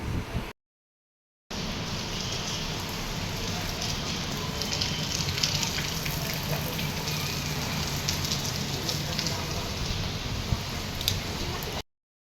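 Rain pours steadily while boys play cricket outside, a dense, even hiss of water striking surfaces that is fairly close and continuous, with no voices.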